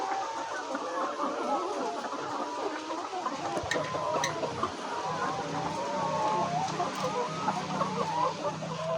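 Laying hens on a poultry farm clucking continuously, many birds overlapping in a dense, steady chorus with no pauses.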